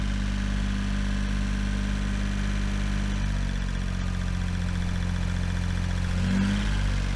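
An Armstrong Siddeley Special car engine idles while warming up, a steady low hum and drone held close and unbroken throughout, with a slight swell near the end and no voices.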